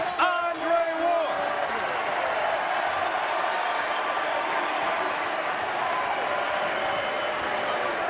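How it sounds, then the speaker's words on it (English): A large boxing crowd roars and applauds continuously at the Andre Ward vs Carl Froch fight, a dense steady wash of cheering that stays loud from start to finish, with a bell ringing briefly at the start. "watching this crowd jump to its feet"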